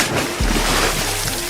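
Someone stumbles and falls into water in a horror story, heard as a brief low thud followed by a rush of churning, splashing water, close and fairly loud.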